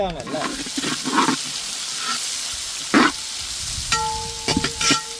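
Onions with cinnamon, cloves and cardamom fry in oil for a banana stem kurma, with scattered sizzling and stirring bursts close by, while a person talks intermittently.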